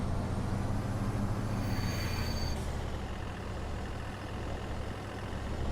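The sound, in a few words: vehicle engine resembling a dump truck in Farming Simulator 22 video game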